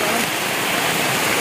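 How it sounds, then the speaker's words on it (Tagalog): Heavy rain pours down steadily during an outdoor ribbon-cutting event, a dense broadband hiss of rainfall on surfaces that continues without pause. "Ay, grabe, lakas ng ulan"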